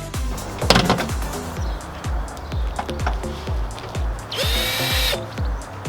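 A power drill or impact driver spins out bumper bolts beneath the front of a crashed Mazda MX5 NC, in repeated short bursts with a longer, louder whir near the end, close and loud with no talking.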